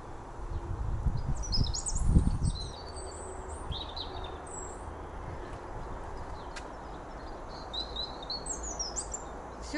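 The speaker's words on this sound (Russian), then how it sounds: "Слышите, как поют птицы." Birds chirp and trill outdoors in spring, giving scattered high tweets throughout over a low rumbling background. A brief louder thump comes near the start, and no one talks.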